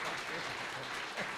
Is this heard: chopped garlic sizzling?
no